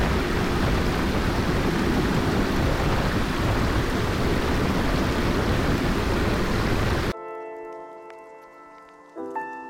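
Water rushes and splashes loudly and steadily for several seconds, then cuts off abruptly, leaving a faint tonal hum.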